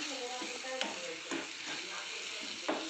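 Mashed eggplant bharit with coriander and salt is stirred in a pan, giving a soft continuous sizzle with light scraping strokes at a steady pace.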